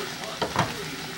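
Onions, peppers and mushrooms frying in a pan for cheesesteak, a steady close sizzle with a brief stirring scrape.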